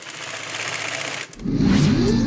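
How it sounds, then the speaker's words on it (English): A sewing machine stitching PVC runs in a fast, steady mechanical whir, then shifts to a louder, lower-pitched rattling as stitching continues. "Did you like the sound of the sewing machine when they stitched the PVC together?"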